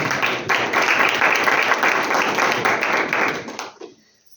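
A church congregation bursts into vigorous applause for Jesus Christ, a dense, loud wash of clapping hands that holds steady for several seconds, then tapers off quickly into quiet.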